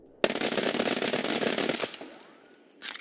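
A 9mm Uzi submachine gun in a video game fires one sustained full-auto burst at a very high rate, loud and close, then cuts off, leaving a faint tail and a brief final noise.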